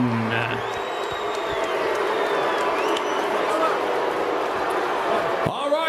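Arena crowd at an MMA event in Columbus, Ohio, lets out a sustained roar of booing and shouting, broad and constant, with a voice on a loudspeaker speaking over it near the end.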